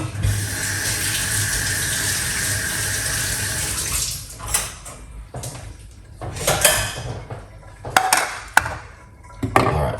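Water pours steadily from a kitchen tap for several seconds as produce is rinsed for a detox juice, then cuts off, followed by scattered clinks and knocks of items being handled near a sink.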